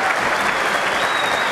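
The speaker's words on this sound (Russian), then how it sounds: "Зрители аплодируют стоя." Boxing match crowd applauding on their feet, a dense, steady wash of clapping from a large arena audience, loud and continuous with no pauses.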